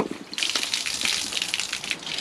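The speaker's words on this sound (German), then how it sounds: "Kommt jetzt hier immer noch Wasser oder was?" Water gushes and splashes steadily from an overflowing motorhome tank outlet, a close, continuous rushing spill with scattered droplet spatter, no talk over it.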